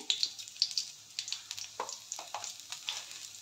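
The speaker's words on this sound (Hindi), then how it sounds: "तेलटा ताती हो गला पर गोटे सुखिला लंका को फटैकी पकई नेले" Dry red chillies crackle and sizzle in hot oil, a steady frying hiss broken by close, sharp pops at an irregular rhythm, with no voices.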